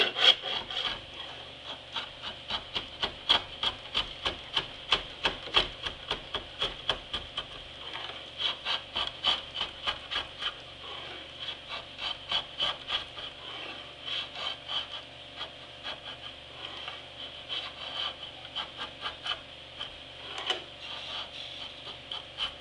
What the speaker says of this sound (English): I'll use this big heavy rasp